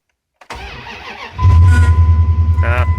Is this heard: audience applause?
no